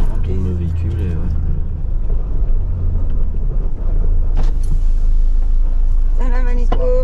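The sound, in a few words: vehicle turning in the Sahara desert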